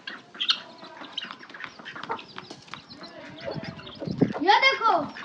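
A hen with her newly hatched winter chicks: clucks and thin, high chick peeps, loudest near the end, under a person talking nearby.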